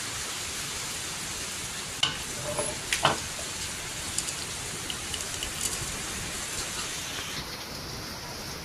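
Bangus fish fries in cooking oil with whole peppercorns, a steady soft crackle and sizzle throughout, broken by a few louder pops and spatters near the start.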